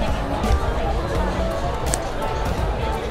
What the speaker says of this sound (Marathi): इकडे गर्दी बघा किती आहे